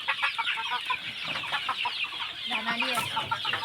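Hundreds of chickens on a small local poultry farm cluck in a dense, continuous chatter, with a few louder individual calls rising over the flock and no clear speech.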